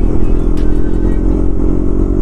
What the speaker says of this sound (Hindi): भाई एक महीने के बाद मेरी बाइक चला रहा हूँ यार